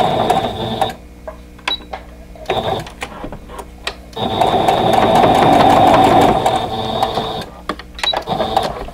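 Sewing machine stitching a quilt block seam on a friendship quilt block, running in short stop-start bursts with clicks between them, then one longer sustained run, loud and close.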